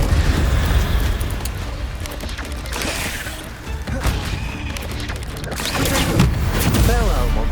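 A fiery Incendio spell in the Hogwarts Legacy video game erupts in loud, crackling bursts that repeat through dense combat noise, flaring again near the end.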